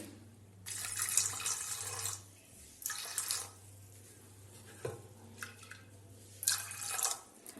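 Water splashes into a pressure cooker holding dal for a Mughlai-style dish, in several gushing pours separated by short pauses, close and clear over a low steady hum.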